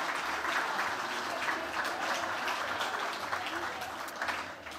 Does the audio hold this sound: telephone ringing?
no